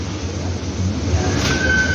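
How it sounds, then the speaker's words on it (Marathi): Mumbai Metro Line 3 Aqua Line underground train pulling away from the platform toward BKC, a steady low rumble and broadband rolling noise that swells slightly as it gathers speed, with a faint tone emerging late. "आणि आता आपली गाडी चालली BKCच्या दिशेने"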